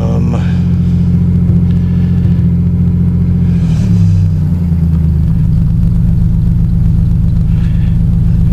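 An old Chrysler Dodge car engine on a cold start, settling into a steady, loud idle with a rising rev near the middle before easing back to an even rumble.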